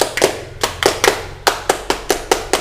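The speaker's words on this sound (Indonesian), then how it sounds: "Pertama sekarang tepuk pramuka dulu." Indonesian scout clap, tepuk pramuka, performed by a group: crisp, close hand claps in the set pattern of a few quick claps, a short pause, then faster claps, clear and unaccompanied by talk.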